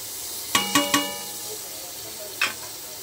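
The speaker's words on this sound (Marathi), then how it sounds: "आता मी पनीर टाकणार आहे यामध्ये।" Paneer stirred into a masala gravy in a pan: three quick metallic taps of a spoon against the pan, then a fourth a little later, over a soft background sizzle.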